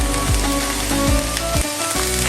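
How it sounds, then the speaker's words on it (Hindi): Chicken with peppers and oregano sizzles steadily in a hot pan, a loud, continuous frying hiss with a few scraping stirs and no talking. "मिक्स करेंगे और 1 मिनट तक इसे सौते कर लेंगे"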